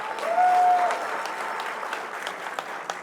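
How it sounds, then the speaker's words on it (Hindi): An audience at an alumni event applauds in a steady, moderately loud wash of clapping that holds for a few seconds, with a faint voice briefly over it. "A big round of applause. आप सबके लिए तालियां बजा लो,"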